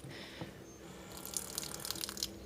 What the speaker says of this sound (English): And then you just press it on. The water comes out.